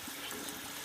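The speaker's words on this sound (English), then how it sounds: "I'm just refilling my tank." Tap water pours steadily into a fish tank during refilling, a faint, even rushing splash that runs unbroken without any voices.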